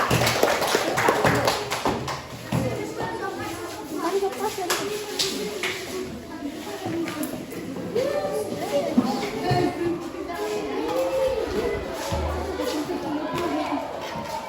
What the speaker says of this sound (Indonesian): beri tepuk tangan untuk teman-teman kita.